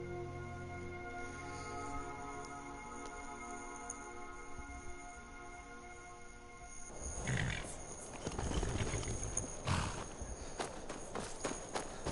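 Horse hooves and horse sounds from Skyrim Special Edition, starting after a quiet stretch with a steady hum, then rising into a louder busy patch of hoofbeats and movement through the second half.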